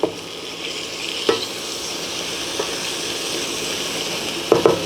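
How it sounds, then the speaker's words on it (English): Tomatoes are stirred into seafood pinakbet in a pot over a continuous low frying hiss, with a few brief utensil knocks against the pot and no talk. "And now I'm gonna add my tomatoes."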